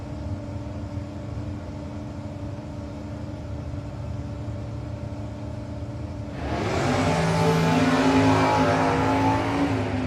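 A Camaro drag car at a no-box drag racing shootout, a steady engine drone that swells into a loud, wide roar as the car launches and races down the strip near the end.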